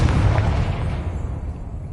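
Fiery Confringo spell blast cast in Hogwarts Legacy, a loud booming burst at the start that rumbles and fades over two seconds, with game ambience continuing beneath.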